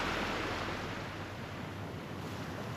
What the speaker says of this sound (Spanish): Mareas vivas.